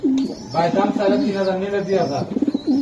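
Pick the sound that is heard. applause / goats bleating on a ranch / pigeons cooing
pigeons cooing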